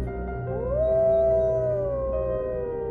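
A dog lets out a single long, wavering howl like a wolf, rising then slowly falling, heard clearly over a low background rumble.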